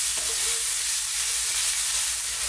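Thai basil and vegetables stir-fried in a pan over high heat, a loud, steady close sizzle with a faint clink of stirring near the start, no voices.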